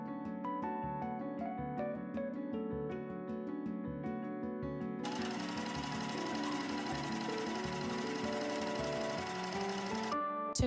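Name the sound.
sewing machine sewing fabric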